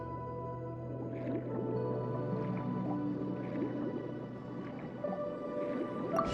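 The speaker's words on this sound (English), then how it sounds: "We call this thing an echoing conch. It can detect special reflection waves in the water" Underwater sonar pulses from an echoing conch in the video game Genshin Impact, a steady deep drone with soft repeating watery pings and gurgles spaced about every second, no voices.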